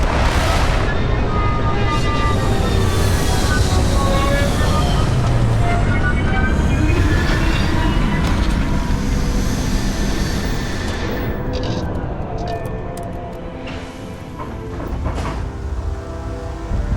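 A spaceship landing in Starfield, a loud sustained roaring engine rumble with shifting whines and hisses that gradually eases toward the end, with no one speaking.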